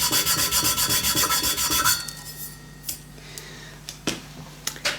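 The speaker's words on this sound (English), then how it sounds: "I'm going to switch over to a more aggressive abrasive, and I'll see if I can get down to the bottom of that little hollow section there" A coarse abrasive rubs rhythmically over a silver-plated teapot in a woodwork vise, about ten quick even strokes, then quieter scattered taps and handling clicks.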